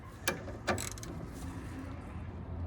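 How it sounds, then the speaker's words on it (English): Nuts on the coilovers of a Honda Civic are tightened by hand, giving two quick, sharp ratcheting clicks close by early on, then a faint mechanical hum with no speech. "I just tightened the nuts up here."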